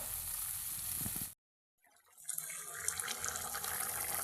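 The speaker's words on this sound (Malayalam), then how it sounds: "ഞാനിതിലിപ്പോൾ വെള്ളം ചേർത്തിട്ടുണ്ട്" Water splashes into a hot pan of prawn roast, a steady hiss cut by a brief silence before a bubbling, sizzling wash of noise returns close up, with no talk.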